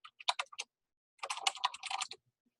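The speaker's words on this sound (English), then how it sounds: "So type your name" Quick keystrokes on a computer keyboard in a school computer lab, tapped out in two short bursts separated by a brief pause, close and fairly quiet with no talking.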